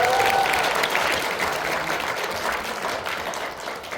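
Applause fills the room at the 2024 Korea Internet Journalist Awards ceremony, steady dense clapping from a seated audience that carries on for the full four seconds and eases slightly toward the end.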